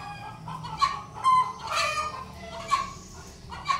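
A bekisar chicken, a junglefowl hybrid, gives a series of short clucks and squawks while being handled and examined for illness, with several bursts spread across the moment.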